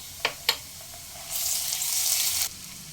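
A tablespoon of ginger garlic paste hits hot oil with fried garlic in a pan for chicken palak keema: two quick taps, then a loud hiss of sizzling that lasts about a second before cutting off.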